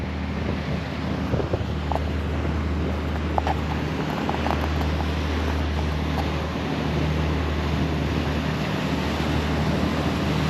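A tourist boat's engine drones low and steady across open harbor water in Hamburg, with wind buffeting the microphone throughout.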